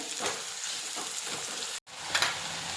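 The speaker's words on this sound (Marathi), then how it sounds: "त्यानंतर त्यामध्ये बारीक चिरलेला कांदा घालायचा आणि कांदा पूर्णपणे लाल होईपर्यंत परतवत राहायचा" Finely chopped onion sautéing in a pan for rajma makes a soft, even sizzle with light stirring ticks, quiet and close, broken once by a brief gap.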